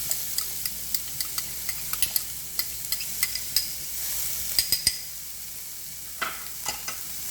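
Onions and garlic cooking in a pan for a Mexican-style ground beef casserole, giving a steady close sizzle broken by repeated sharp scrapes and clicks of a stirring spoon.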